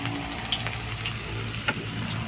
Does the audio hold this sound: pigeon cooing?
no